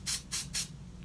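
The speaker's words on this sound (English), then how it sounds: "So for this specific one, you spray underneath and you drop the hair into it." Aerosol hair spray released in three quick hissing bursts, each about a fifth of a second, close and loud over a low background hum, with a faint fourth puff at the very end.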